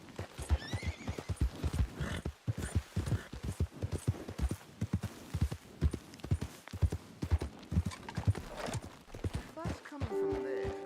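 A white horse in the video game Red Dead Redemption 2 trots with rhythmic clip-clop hoofbeats and gives several neighs and whinnies, with voices talking quietly underneath.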